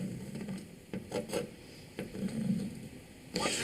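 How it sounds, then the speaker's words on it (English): Soapstone scraping across a 1/4 inch steel plate while initials are written: a run of short, scratchy rubbing strokes, close up and fairly quiet, with no talking. "we're going to write our initials on this 1/4 inch plate"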